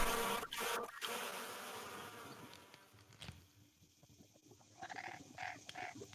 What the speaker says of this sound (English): The flies buzzing around.